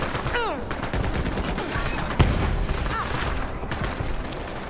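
Gunfire rings out in the video game Borderlands 3: a rapid run of close, sharp shots and bursts, with one heavier crack in the middle, over busy game sounds.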